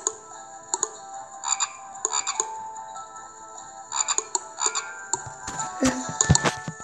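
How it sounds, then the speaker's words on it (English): A frog croaks in repeated short bursts with a ticking rhythm, fairly clear and alone, with a few sharper knocks near the end. "This frog."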